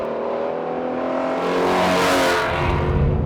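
A Ford Mustang V8, either a Shelby GT350 or a Boss 302, revs loudly and steadily with a rich harmonic drone, swelling in volume partway through and holding strong to the end.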